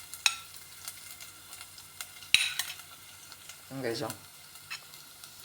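Dinuguan, a Filipino pork blood stew, sizzles quietly in a pan while a utensil stirs and scrapes, giving a few sharp clinks and a short swirling burst, and a voice speaks briefly.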